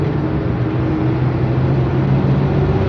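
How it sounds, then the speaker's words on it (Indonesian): Steady low engine drone and road rumble heard from inside a legendary Indonesian bus creeping slowly through heavy traffic in Muntilan, a constant loud hum with no talk. "Bis yang saya tumpangi juga jalan perlahan-lahan saja."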